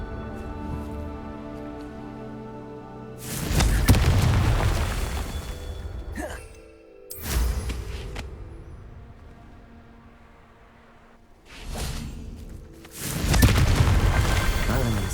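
Confringo spell explosions in Hogwarts Legacy on PS5, two heavy booming blasts several seconds apart, each with a loud burst that rolls off into rumble, with quieter bursts and crackling between them.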